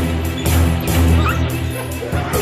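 A guard dog barks in repeated loud, close bursts during protection training, with a steady rumble of background noise underneath.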